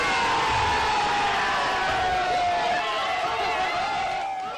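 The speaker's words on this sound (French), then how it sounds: "Les cris de joie que vous entendez, ce sont ceux des Brexiteurs au Royaume-Uni" A large crowd of Brexit supporters in the United Kingdom cheers and shouts in celebration of the 2016 referendum result, a dense continuous roar of whoops and yells that fades slightly at the end.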